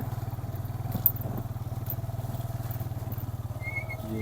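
A motorbike engine putters steadily with a regular throbbing pulse as it rolls through clear, shallow stream water near a mountain lake, with a faint watery splash and a brief knock partway through.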